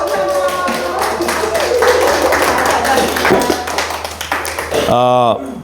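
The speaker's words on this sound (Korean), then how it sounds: "강윤희 권사님께 박수를 보내드립니다." A church congregation at a Sunday service claps in applause, a loud, busy patter of hands with a voice speaking over it and a brief tonal sound near the end.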